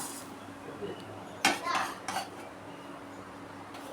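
Idli podi spices dry-roast in a pan while a metal spoon stirs and clinks against it a few times. A faint background hum runs underneath.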